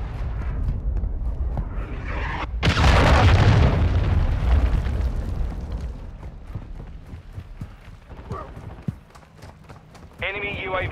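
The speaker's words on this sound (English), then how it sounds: "Friendly cruise missile inbound." Heavy cruise missile blasts rumble in Call of Duty Modern Warfare II team deathmatch, a loud booming impact followed by a long rolling decay amid scattered gunfire, with a radio voice speaking over it.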